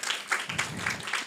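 An audience at an event introducing the 2025 Economic Prosperity Solvers claps for volunteers, making a steady, fairly faint wash of many hands heard from a moderate distance.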